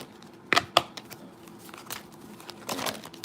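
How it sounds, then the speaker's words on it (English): Tarot cards shuffled by hand, two sharp riffling snaps followed by softer crinkly shuffling and a final longer riffle, close and quiet with no talking. "Shuffle."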